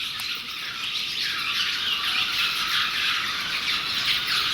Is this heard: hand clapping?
no